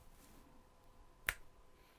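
A single crisp finger snap rings out once, sharp and close, against a quiet room with faint background hum.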